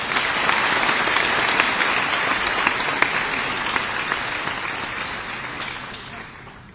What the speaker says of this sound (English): Amidst all the thunderous applause,